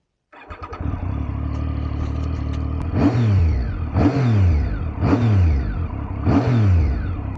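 A Triumph Street Triple 675 middleweight naked motorcycle with about 30,000 miles idles loudly and then gives four sharp, evenly spaced throttle blips. Each rev climbs fast and falls away, close to the bike, with no talk.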